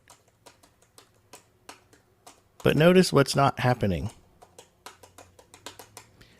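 Keys on a Braille display click and tap as a note is typed in iOS, with soft, irregular strokes throughout and a person speaking briefly in the middle.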